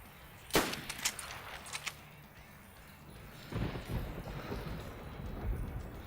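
Sharp gunfire cracks inside the DayZ video game: one loud shot, then a couple of quieter reports within the next second or so, followed by a soft rumbling ambience with a muffled thump later on.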